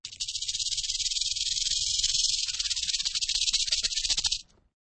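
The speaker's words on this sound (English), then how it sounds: "This is a snake." A venomous snake gives one sustained, loud hiss lasting about four seconds. The sound is close and steady, then stops abruptly.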